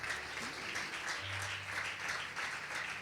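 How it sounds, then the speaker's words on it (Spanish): A church congregation claps together in a steady, rippling applause at moderate distance, with a low hum underneath and no talking. "Démosle un aplauso fuerte a nuestro Señor en esta tarde."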